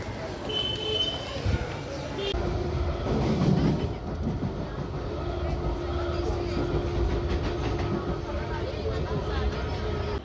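Commuter train ride in Mumbai toward Ghatkopar: steady rumble of the moving rail car with wheel clatter and a sustained hum throughout, heard from inside the carriage with faint voices in the background.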